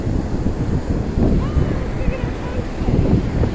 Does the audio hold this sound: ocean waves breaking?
yes